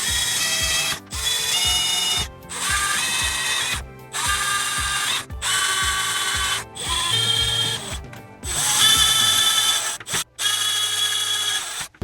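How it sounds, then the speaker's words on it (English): Power drill boring a series of holes for headphone jacks in a droid remote control, about eight loud whining bursts separated by brief silences, each with a rising and falling motor pitch, no talking. "I've got all my holes drilled"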